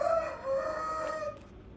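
A single Aseel rooster crows once, a drawn-out call lasting over a second that fades at the end, fairly close.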